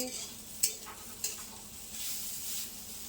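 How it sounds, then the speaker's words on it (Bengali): Soft sizzling of potatoes frying in a pan, with a couple of sharp utensil clinks and scraping stirs, fairly quiet. "এখানে আমাদের আলু ভাজা চলছে"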